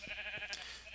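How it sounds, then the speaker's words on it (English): A sheep bleats faintly in Minecraft, a couple of soft, wavering calls heard against quiet background noise. "Let's dye our white sheep white."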